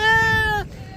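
A sheep at a livestock market gives a single loud, close bleat lasting over half a second, followed by a low murmur of background crowd noise.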